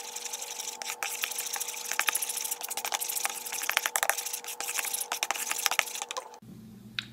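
Spoon stirring a milk mixture for lemon bars in a bowl, a rapid run of scraping, clinking strokes that continues steadily, then stops abruptly near the end; no talking.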